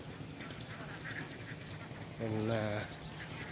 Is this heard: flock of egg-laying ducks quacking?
yes